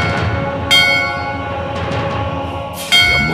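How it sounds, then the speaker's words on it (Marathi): A bell rings loudly with two clear strikes, each leaving a long ringing hum, set against a low rumbling background and with no talking. "घंटा वाजण्याचा आवाज येतोय।"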